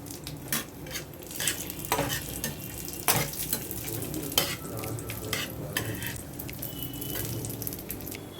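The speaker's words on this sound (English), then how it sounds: "I would be frying a little bit of cashews and raisins. Frying it in ghee." Cashews and raisins frying in ghee for carrot halwa, giving a steady close sizzle broken by sharp clinks and scrapes of a spoon stirring in the pan.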